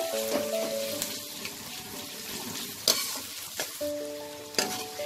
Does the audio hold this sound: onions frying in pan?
yes